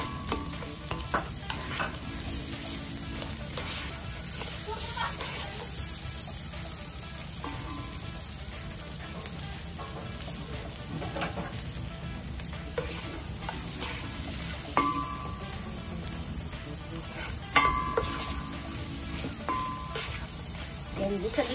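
Onions sautéing in a pan for paella, a continuous close sizzle with repeated utensil scrapes and clinks, and faint talk now and then.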